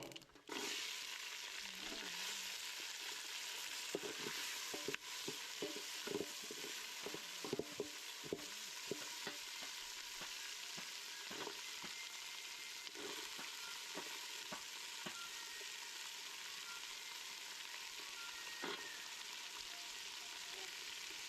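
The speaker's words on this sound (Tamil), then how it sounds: "இப்போ வெங்காயத்தை மட்டும் உள்ளே போட்டு லேசாக வதக்கிறோம்" Onions sizzle steadily in a pan as the base for a country chicken gravy, a dense continuous frying hiss with occasional stirring clicks and scrapes throughout, close and fairly even in loudness.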